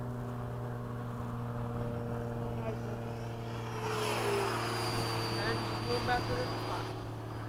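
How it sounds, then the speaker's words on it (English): A small aerobatic propeller plane drones overhead, swelling from a distant hum to a louder passing whine and then fading, heard steadily outdoors under a constant low engine-like hum. "That's an aerobatic plane."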